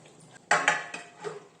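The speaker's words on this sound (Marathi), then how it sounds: "ह्याच्यावर ठेवते आता झाकण" A metal lid is set onto a steel cooking pot on a gas stove, making a few quick clinks and clatters in close succession, up close in a quiet kitchen.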